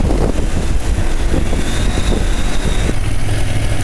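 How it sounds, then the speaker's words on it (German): Strong wind buffets the open helmet of a rider on a Husqvarna Norden 901 travel enduro, a loud continuous rush with gusty fluctuations layered over faint engine rumble. "Ich hoffe, ihr versteht meine Kommentare, weil der Wind so stark geht."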